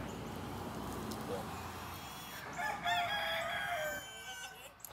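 Chickens and a rooster in a chicken wire pen, with clucking and a rooster crowing partway through, moderately close over a soft outdoor background.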